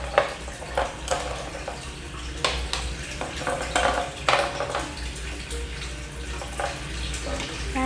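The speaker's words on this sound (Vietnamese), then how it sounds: "Hiếu xếp vẹn lên sau khi đã rửa sạch." New Zealand green mussels in their shells clink and clatter against a metal tray as they are laid out one by one for grilling, close scattered knocks over a low background hum.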